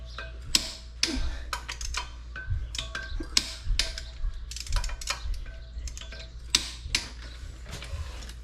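Torque wrench tightening clutch bolts on a John Deere 7520 4WD tractor, giving sharp irregular metallic clicks and ticks over a low steady hum, close by with no talking.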